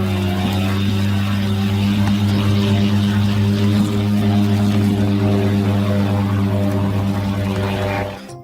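A Gorlitsa reconnaissance UAV drone takes off during a flight test, giving a steady, loud propeller-engine drone with a constant low hum that holds for several seconds and then cuts off abruptly.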